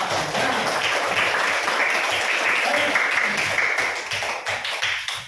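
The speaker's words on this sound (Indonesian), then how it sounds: "Kita berikan tepuk tangan yang meriah untuk kita semua." A congregation at a church gathering gives a lively round of applause, a dense, sustained wash of many hands clapping at once that holds for several seconds before tapering slightly at the end.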